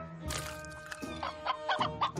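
A cartoon chicken clucks in quick, agitated bursts, close and fairly loud, with a few busy rustling sounds between the calls.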